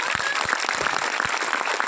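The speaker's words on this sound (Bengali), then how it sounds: "একটা দাবড়ে ধমকে হাততালি হোক দেখি" A crowd claps together at a Tiens network marketing team meeting of the Canning team, a short burst of dense, fairly loud applause with scattered sharp claps.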